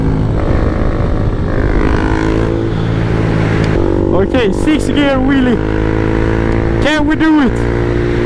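KTM Duke motorcycle ridden in sixth gear for a wheelie, a loud steady engine drone under wind roar, with a rider speaking and shouting over it and rising whine-like tones near the end.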